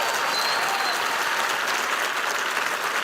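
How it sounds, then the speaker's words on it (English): Steady, dense applause from a large audience at a lunch plenary session on syphilis, loud and continuous throughout with no break, no voices standing out above the clapping. "A huge round of applause"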